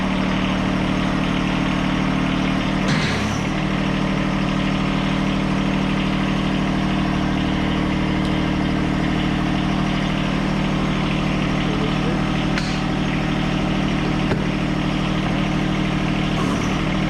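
A John Deere compact tractor engine runs steadily throughout, a loud, constant low drone with brief bumps of noise around the third second and near the end, no voices heard.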